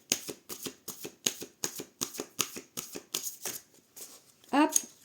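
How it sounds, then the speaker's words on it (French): Oracle cards being shuffled by hand at close range, a regular train of about a dozen crisp riffling flicks followed by a final quick rustle, quiet and clear with no talk over it. "Allez, je vais faire une coupe."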